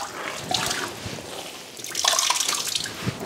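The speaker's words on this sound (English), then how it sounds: "Twist with discretion to minimize damage to the fabric." Water wrung from a priest's vestment fabric by twisting, heard as close splashing, trickling and dripping runoff that swells in the second half.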